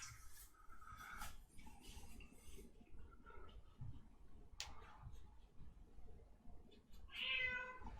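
A cat meows a few times at low level against a quiet room background, with faint scraping and ticking noises between the calls.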